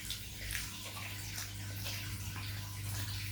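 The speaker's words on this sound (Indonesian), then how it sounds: "jadi airnya tuh kencang" Tap water running strongly at home in a residential housing area, a steady broadband rushing flow that holds fairly constant and close throughout, with a faint low hum underneath.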